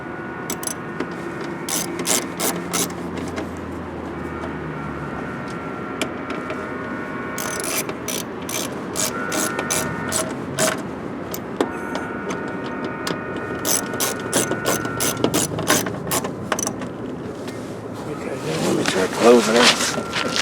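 A ratchet snugs a bolt on the door of a 2008 Chevy Equinox during a lock actuator and striker repair, with bursts of rapid clicking repeated several times amid scattered clinks, close and moderately loud.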